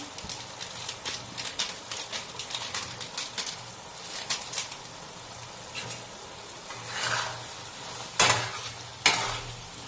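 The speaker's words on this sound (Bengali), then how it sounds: "নাড়িয়ে নিচ্ছি" A spoon scrapes and taps rhythmically against the pan while stirring a small-fish curry (chuno macher jhal) over a soft background sizzle, with a few louder knocks near the end.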